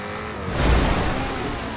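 A car engine roars in a racing video game, a loud, steady rush of motor and road noise that swells briefly as the car accelerates, heard alone without talk.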